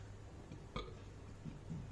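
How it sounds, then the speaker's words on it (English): A single short burp, faint and close, rising briefly out of quiet room tone with soft low rumbles after it. "Excuse me, burp for confirmation."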